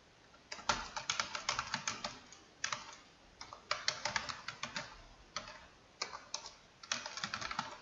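Typing on a computer keyboard while working in Word 2019, with bursts of rapid close key clicks broken by short pauses, and no voices.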